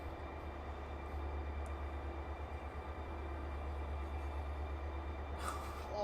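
Freight train in the Run 8 railroad game rolling steadily over a trackside detector, a continuous low rumble with rhythmic clatter of wheels, near and fairly loud, with a brief higher squeal near the end.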